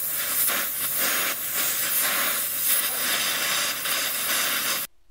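A torch heats a rusted strut nut on a 2007 Chevy Equinox front strut, giving a loud, steady roaring hiss that runs unbroken for about five seconds and then cuts off abruptly.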